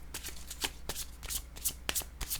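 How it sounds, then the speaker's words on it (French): Oracle cards shuffled by hand, rapid crisp riffling and flicking bursts repeating every few tenths of a second, close and clear with no voice. "Je vais choisir une autre carte"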